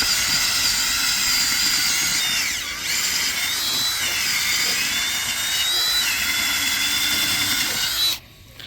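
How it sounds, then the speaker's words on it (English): A power drill bores holes into the ground outdoors with a loud, continuous high-pitched whine, dipping briefly near the middle as it strains and stopping abruptly near the end. "So what I'm doing is I'm just drilling into the ground."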